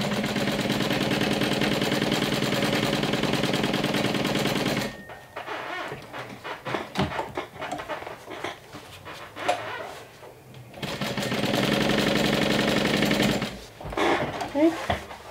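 A sewing machine stitches a seam on a crossbody bag, running loud and steady in two long passes with a handling pause between them.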